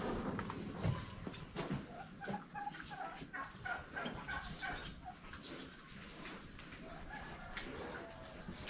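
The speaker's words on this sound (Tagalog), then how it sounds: "yung mga pabo naman dito mukhang nasanay na silang lumabas" Turkeys on a farm make faint, scattered gobbling calls over a low, steady background hum, with no talking.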